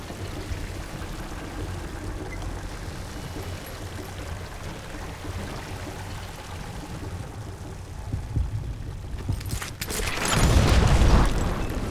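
A single loud gunshot rings out during a duel in Call of Juarez Gunslinger, a sharp crack near the end following a long tense stretch of low throbbing, heartbeat-like ambience.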